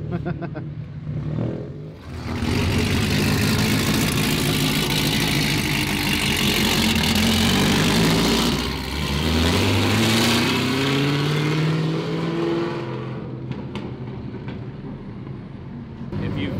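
A race car engine idles and then revs, a loud close mechanical drone whose pitch rises and falls through sweeping climbs, with the note dropping away near the end.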